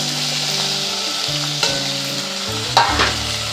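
Tomatoes with curry leaves frying in oil and being stirred for Andhra gongura pachadi; a loud, close, continuous sizzle with sharper spatula scrapes partway through.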